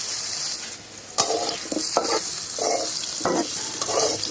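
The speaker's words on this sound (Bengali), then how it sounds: "আলুটা ভেজে নিচ্ছি।" Potatoes fry in hot oil in a wok, giving a steady sizzle with repeated stirring scrapes every half second or so, close and fairly loud with no talking.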